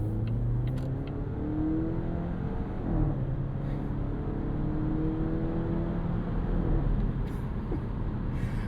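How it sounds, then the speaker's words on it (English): A 2026 Volvo V60 Cross Country wagon with an Aisin 8-speed automatic, heard from inside as a steady, fairly quiet engine hum whose pitch drops at a couple of gear changes while driving. "you guys hear the gear changes from this 8-speed?"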